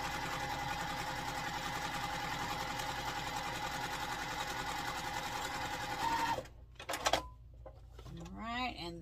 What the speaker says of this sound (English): we're going to sew on both sides of the drawn line here